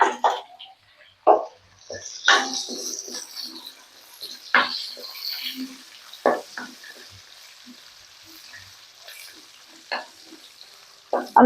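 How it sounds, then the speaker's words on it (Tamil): Oil sizzles in a pan as curry leaves are added and stirred for a mutton curry, with a steady frying hiss broken by sharp bursts of stirring and scraping close by. "இது நல்லா எண்ணெயில் நல்லா வணக்கிக்குங்க அதுக்கடுத்து கருவேப்பிலையை ஒரு ஒத்து சேர்த்திக்கலாம்"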